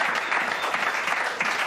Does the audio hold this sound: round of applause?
yes